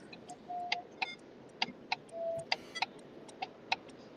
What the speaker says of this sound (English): Sorry for my loud ass blinker.